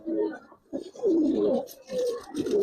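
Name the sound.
Giribaz pigeon cooing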